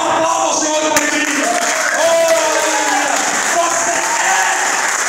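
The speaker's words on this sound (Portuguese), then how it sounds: "Então aplauda o Senhor por ele." A church congregation applauds during a sermon, dense and loud throughout, while a preacher's voice continues speaking over the clapping.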